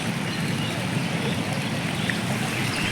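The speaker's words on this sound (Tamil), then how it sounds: "இப்போ அழகாக படிக்கட்டுலேருந்து தண்ணி போகுது." Water flowing down the stone steps at the Kallanai dam, a broad, steady outdoor rush of noise without a break.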